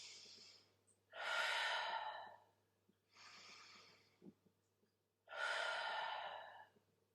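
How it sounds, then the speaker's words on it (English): Four deep, slow breaths alternate between long inhales and fuller exhales during a gentle home yoga session, each lasting about a second, close and clear with a faint steady hum beneath and no talking. "We're going to take 3 big inhales and exhales here."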